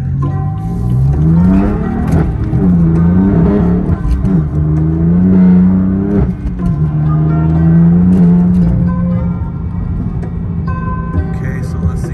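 Steady hum of a manual-transmission car driving and turning around on a Las Vegas street, its engine note rising and falling with gear changes, loud and continuous throughout.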